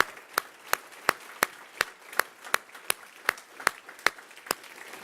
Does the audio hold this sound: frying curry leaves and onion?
no